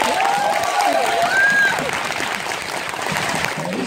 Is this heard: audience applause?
yes